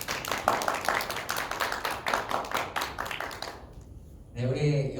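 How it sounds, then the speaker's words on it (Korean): Congregation clapping in encouragement at a Korean church high school winter retreat worship service, a steady burst of many hands for several seconds that stops abruptly before a voice starts speaking. "우리 격려 박수 하겠습니다"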